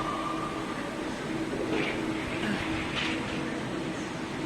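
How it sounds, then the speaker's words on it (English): Train rumbling through Preston station in England, a steady broad roar with faint squeals and hiss, no voices. "So that's the train, and there's one coming that side."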